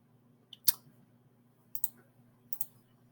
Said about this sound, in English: And just click exit.